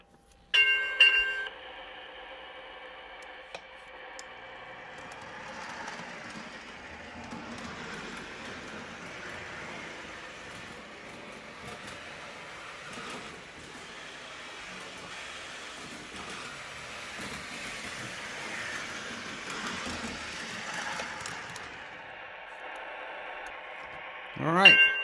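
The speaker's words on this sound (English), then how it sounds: "test run of the point-to-point trolley" A small electric model trolley on a point-to-point holiday train layout hums along its track with a steady whirring rumble, faint rattles and brief bell-like tones at start and end.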